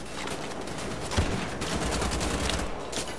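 Rapid, dense gunfire from the video game Wolfenstein: The Old Blood rattles on continuously for about three seconds, loud and unbroken, with no talking over it.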